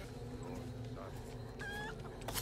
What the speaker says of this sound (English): Oh look, chicken